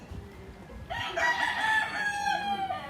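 A single rooster crows once, a long clear cock-a-doodle-doo starting about a second in, fairly close over quiet background noise.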